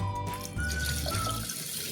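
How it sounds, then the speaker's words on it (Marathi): Running water splashes steadily close by as rice is rinsed under a tap for dosa batter, with a faint tonal whine in the background. "तांदूळ पाण्याने स्वच्छ धुवूया"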